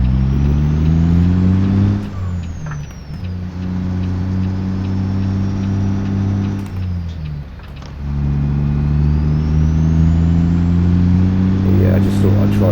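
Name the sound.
truck engine pulling away, American Truck Simulator video game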